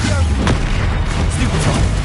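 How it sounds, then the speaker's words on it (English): A Confringo fire spell blasts in Hogwarts Legacy combat, a loud booming burst with a sharp crack near the start over dense, rumbling battle noise. "Confringo!"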